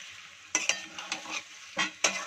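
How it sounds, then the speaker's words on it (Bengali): A spoon stirs spice paste, made with ground green chillies, as it fries in a pan. The paste sizzles steadily, with several sharp scraping strokes at uneven intervals. "এবার একটু নাড়িয়ে চাড়িয়ে নেব"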